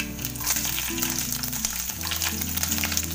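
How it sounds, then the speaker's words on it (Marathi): Mustard seeds and green chilies crackle and sizzle in hot oil, a continuous busy frying sound with steady tonal hum underneath. "आता राई तडतडली की त्यात हिरवी मिरची टाकायची."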